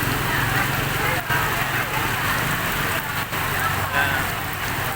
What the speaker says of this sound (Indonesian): 24 jam hujan turun deras di kota Medan ini.